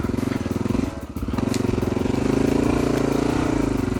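Motorcycle engine running steadily up close while being ridden along a countryside trail, a continuous throbbing drone with a brief dip, then climbing in pitch as the bike pulls uphill.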